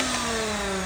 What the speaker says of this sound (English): put in a switch to turn on the vacuum